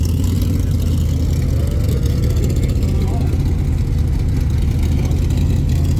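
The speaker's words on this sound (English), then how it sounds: "Look at this Pontiac Fiero. This thing looks awesome and sounds amazing." A Pontiac Fiero engine drones loud and steady at an SCCA Solo autocross event at Packwood, a continuous low rumble with a voice talking over it.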